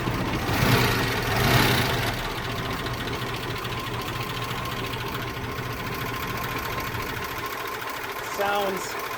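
A 1976 Jeep USPS mail truck with a running problem idles steadily, a rough, continuous mechanical rattle with a faint ticking rhythm, close by. A voice speaks briefly near the start.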